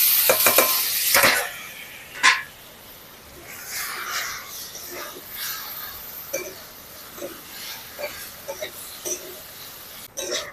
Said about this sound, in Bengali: এবার সেদ্ধ করে রাখা নুডলস দিয়ে দিই।